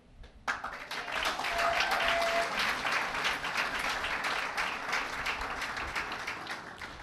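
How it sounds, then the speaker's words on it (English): An audience at a Virgin Islands arts fellowship award ceremony claps for a recipient, the applause bursting in suddenly and holding as a steady, fairly loud roar of hands for several seconds. "Give her a round of applause again."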